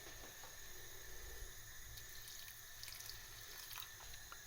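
Water poured into a pan over quince and pear pieces for Japanese quince jam, a steady, soft running trickle with faint splashes throughout, fairly quiet and unbroken.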